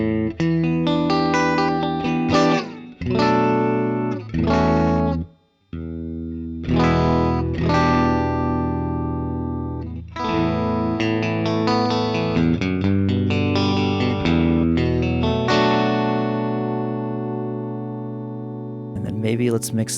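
Electric guitar with single-coil pickups through an Axe FX III using a Dyna Cab Fender Double Reverb cabinet with a condenser mic, playing a flowing clean passage of chords and melodic notes with brief pauses, ending on a long ringing chord.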